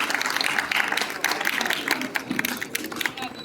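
Crowd applause greeting an honoree at an annual award ceremony and cultural program, dense continuous clapping from many hands across the full stretch with a slight fade toward the close.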